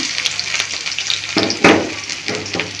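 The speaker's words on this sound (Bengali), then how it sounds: "আমার এখানে তেল গরম হয়ে গেছে আমি দিয়ে দিচ্ছি পেঁয়াজ এবং রসুন" Onion and garlic dropped into hot oil for water spinach stir-fry, a loud close sizzle and crackle that flares as the pieces hit the oil and keeps hissing.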